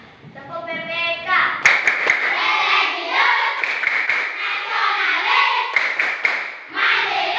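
Classroom rhythmic clapping chant, Tepuk PPK, with children's voices chanting words between sharp, synchronized bursts of hand claps in a lively, rhythmic pattern.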